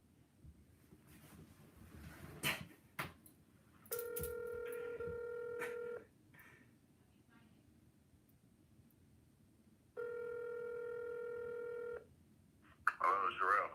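Telephone dial tones for a call back to a house seller: two long steady tone bursts of about two seconds each, loud and close, separated by quieter handling noise and brief clicks, with a burst of crackly line noise at the end.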